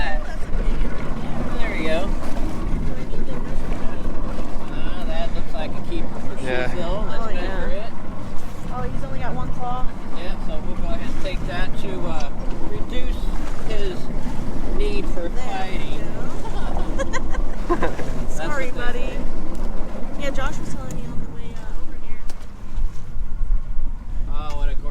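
Gusting wind roars steadily across the microphone on a lobster boat as traps are hauled on a windy day, a loud continuous rumble with water and deck noise beneath it while people talk throughout.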